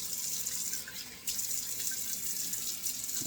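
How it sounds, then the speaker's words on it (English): Cold water running from a bathroom sink tap: a steady splashing hiss of flowing water, moderately quiet and continuous, with no speech. "Cold water running."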